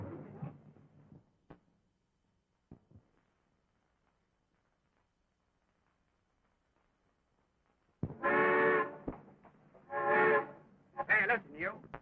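A steam train whistle blows in loud, sustained blasts, three bursts in quick succession after a stretch of near silence and a few faint knocks.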